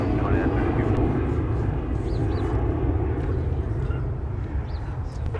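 An airplane takes off from Minneapolis–Saint Paul airport on runway 30 right, its engines roaring in a broad, steady rumble throughout, with tower radio chatter faintly overlaid.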